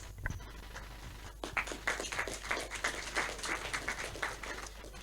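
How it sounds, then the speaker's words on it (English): An audience at a Falkirk FC board and management Q&A gives a short round of applause, a dense patter of many hands clapping at moderate volume that runs on for several seconds before thinning out. "I didn't expect any applause whatsoever, so thanks for that."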